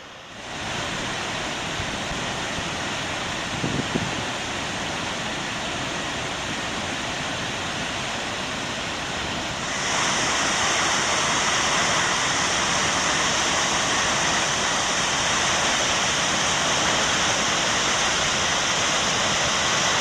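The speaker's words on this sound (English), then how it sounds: "It is known for its beautiful waterfall Skogafoss, which is on the Skoga River, which springs from 60 meters of eroded cliffs." Skogafoss, the waterfall on the Skoga River in Iceland dropping from 60-meter eroded cliffs, gives a constant loud rushing roar that swells noticeably about halfway through as if moving closer, with no talking.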